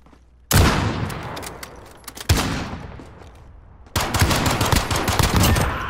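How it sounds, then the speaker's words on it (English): Rapid pistol fire in Call of Duty: Modern Warfare, close and loud, arrives in three sharp bursts of fast cracking shots. Each burst has an echoing tail, and the last burst runs continuously to the end. "Look at that pistol! Yikes, dude, that thing shoots fast."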